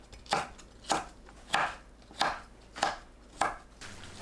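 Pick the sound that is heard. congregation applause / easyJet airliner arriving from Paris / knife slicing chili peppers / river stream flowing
knife slicing chili peppers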